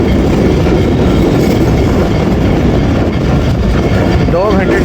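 Tezgam passenger train rolling along at speed, a steady loud broadband rumble and rattle of carriages throughout, with a brief wheel squeal near the end.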